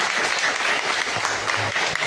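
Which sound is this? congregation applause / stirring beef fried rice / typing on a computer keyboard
congregation applause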